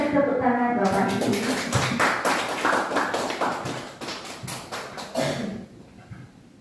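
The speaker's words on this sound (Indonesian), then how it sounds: "Mohon kita beri tepuk tangan Bapak Ibu" An audience at a school dissemination session claps together in a quick, crisp rattle of many hands that fades out toward the end. A voice speaks briefly at the start.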